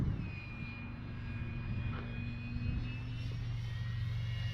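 An Arrows RC Bigfoot model airplane flying overhead, its electric motor giving a steady whine that holds level and continuous with a slight pitch drift as it climbs, heard alone without talk.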